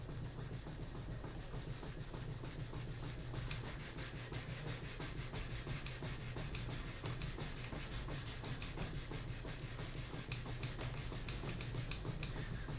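Continuous back-and-forth rubbing of sandpaper on wood by hand, a steady, close, even scratching texture that carries on without pause and with no talking.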